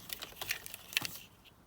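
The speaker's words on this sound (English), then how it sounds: "2 remote keys" Remote keys for a Skoda Octavia 2.0 TDI Elegance jangling, faint, light metallic clinks in a short irregular burst, quiet and close.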